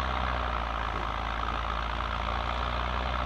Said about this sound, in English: So that's the tractor that's making all the sound.